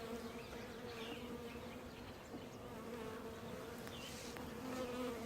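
A dense, steady drone of many bees buzzing together around a hive, a continuous hum that stays even and close throughout, with no voices.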